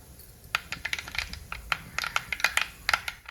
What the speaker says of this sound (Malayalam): കടുക് പൊട്ടി വരാൻ തുടങ്ങിയിട്ടുണ്ട്.